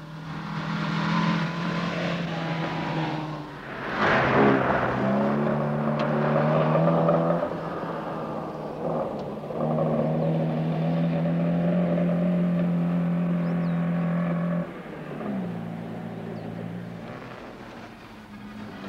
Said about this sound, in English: From Yugoslavia, Kuzmik in the BMW